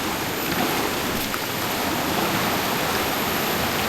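A river in a forest rushes loudly as a steady, broadband wash of flowing water. It continues without pause and without voices, filling the surroundings close by.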